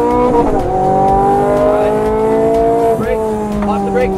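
A Ferrari F430 Scuderia's engine revs up hard on a race track, its loud rising whine climbing steadily through the gears, while a voice talks over the engine noise.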